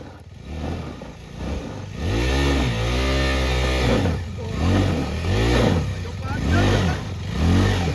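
A car engine revs hard and climbs in pitch again and again as the clutch is let out on a rough road between Beluru, Kalasa, Samse and Didupe. The engine is loud and close, and voices shout over it.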